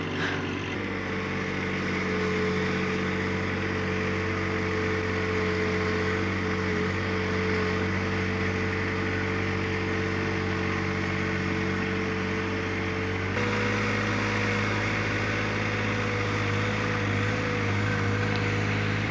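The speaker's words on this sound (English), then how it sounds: "I love having a tractor." A tractor engine runs steadily throughout, a loud continuous droning rumble with a shift in pitch and level about two-thirds of the way through, with no talking.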